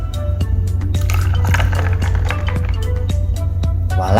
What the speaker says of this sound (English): All we have to do is pour in our espresso shot.